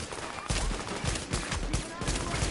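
Gunshots crack out in The Division, several loud sharp reports spaced through a noisy firefight, with a voice talking faintly underneath.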